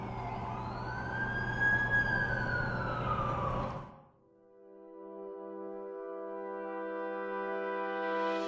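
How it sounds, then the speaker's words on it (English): A wailing ambulance siren in The Amazing Spider-Man 2 video game sweeps up and down loudly for a few seconds, cuts off abruptly, then a steady tonal hum swells back in. "That's the ambulance I called."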